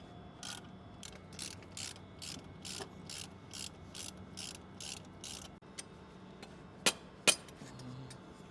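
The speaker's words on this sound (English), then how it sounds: "we're going to use an 11mm and remove the band clamps on both ends of the EGR crossover tube" An 11mm ratchet works the band clamps off both ends of the EGR crossover tube on a Cummins diesel, a steady run of quick ratcheting clicks in bursts, close and clear, followed by a couple of sharp metallic clinks.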